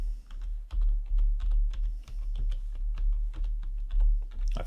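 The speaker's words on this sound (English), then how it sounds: "I've typed in a URL." Someone types a web address on a computer keyboard, a steady run of close, crisp key clicks with short pauses between bursts.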